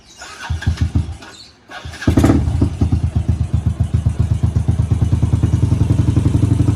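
A Yamaha 128cc motorcycle engine cranks briefly, pauses, then catches and settles into a loud, rhythmic idle with a steady, fast chugging pulse, close by.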